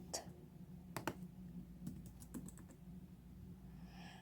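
A few quick bursts of computer keyboard typing while entering a username and password during an Ubuntu 20.04 LTS install, sparse clicky keystrokes close by over a faint low hum.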